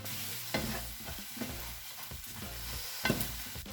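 Croutons frying in a pan as Parmesan is mixed in, soft steady sizzle with several distinct scraping stirs and a sharper clack near the end, close and quiet, without talk.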